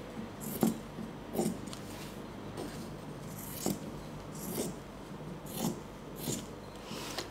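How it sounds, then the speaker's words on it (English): Scissors snip through fabric along a curvy line, with about nine short, crisp cuts spaced roughly a second apart, close and fairly quiet, with soft rubbing between them and no talking. "I'm going to cut the fabric shape according to the shape. Just cut it a curvy line here."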